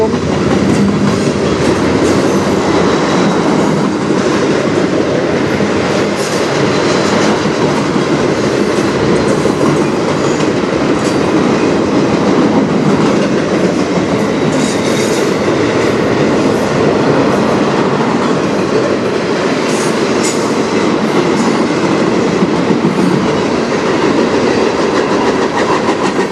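A yard train rolling through Sarnia station in Ontario, a steady rumble of wheels and cars with faint clicking, continuous and loud throughout.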